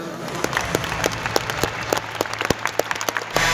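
An audience at the final of Ukraine's 2019 national Eurovision selection claps in a dense, steady wave of applause, with sharp individual claps standing out, close and loud.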